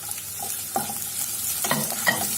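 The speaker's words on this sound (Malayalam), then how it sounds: "ഇനി ഞാൻ ചതച്ച ഇഞ്ചി, വെളുത്തുള്ളി ചേർത്ത്, പച്ചമുളകും ചേർത്ത് കൊടുക്കാം" Crushed ginger, garlic and green chilli fry in oil for a soya chunks roast, a close sizzle broken by several scraping stirs and spoon knocks against the pan.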